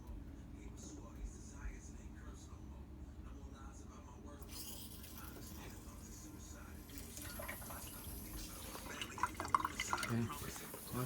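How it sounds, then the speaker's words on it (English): Water from a sink supply line runs into a newly connected refrigerator water line, a steady hiss that starts partway through and then flows continuously, with faint drips and rattles. "Okay. Water running."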